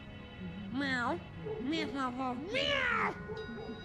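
Cat meowing in the Vampire: The Masquerade Bloodlines 2 video game: three clear, drawn-out rising and falling meows, fairly close, heard alone over a soft game background hum.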